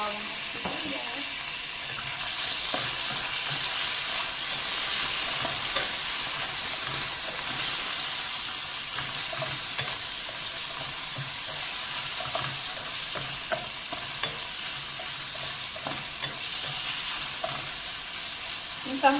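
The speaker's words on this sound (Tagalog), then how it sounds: "matagal ko itong ipa-fry yung pork" Pork frying in a pan with garlic and onion, a steady bright sizzle that grows louder after a few seconds and holds continuously, close up, with faint stirring and clinks.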